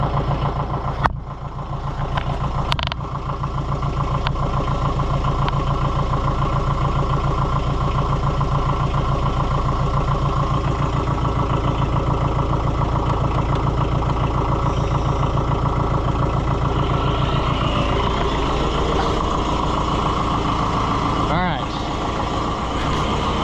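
An Oliver 550 tractor idles after a new injection pump is fitted, its diesel engine running with a low, steady, even rumble that stays close and constant throughout, with faint mechanical rattles now and then.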